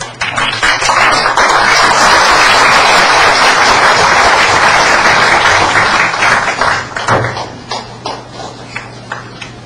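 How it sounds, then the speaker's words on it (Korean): An audience applauds a tenor's introduction at a Korean lecture-concert, with loud sustained clapping that thins out into scattered claps toward the end. "큰 박수로."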